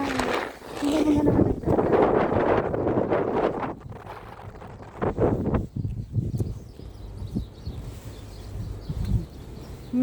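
Gusty wind buffeting the microphone in rumbling bursts on a snowy sidewalk, with a voice speaking briefly over the outdoor noise.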